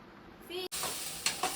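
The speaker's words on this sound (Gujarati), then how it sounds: "અહીંયા બટેટાનો વઘાર થઈ ગયો" Brief bursts of sizzling tempering oil with potatoes being stirred in a pan, scrapes close and fairly loud, ending in a couple of sharp spatters.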